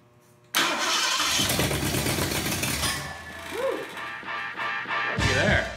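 A rescued Cougar's engine cranks briefly, then catches and roars into a loud, steady running note, with a faint voice heard over the engine near the end.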